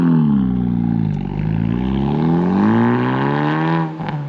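A 2025 Honda Civic Type R engine revs loudly and close, its pitch sagging briefly then climbing steadily under acceleration before easing off at the end.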